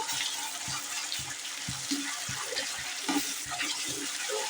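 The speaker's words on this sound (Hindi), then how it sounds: "चलिए अच्छे से फ्राई कर लेंगे तेल में मसाले को।" Spice masala frying in oil for chicken masala gravy, a continuous bubbling sizzle with regular soft stirring knocks underneath, close and moderately quiet, no voices.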